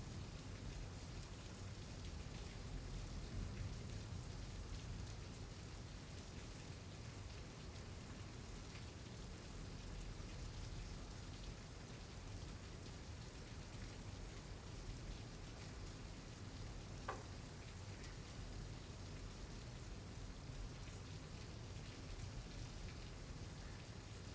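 Steady rain falls during a storm in Houston, Texas, a soft, continuous hiss of drops on surfaces that stays even and fairly distant for the whole stretch, with no talking.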